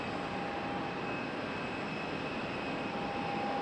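A JetBlue Airbus A321 airliner at Raleigh-Durham airport gives off a continuous, even jet roar with a thin steady whine running through it, moderately distant and unbroken.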